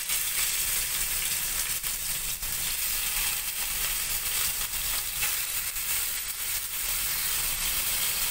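Loud, continuous sizzling of chicken frying in hot oil in a pan, a dense crackling hiss with occasional pops, close by and without talk.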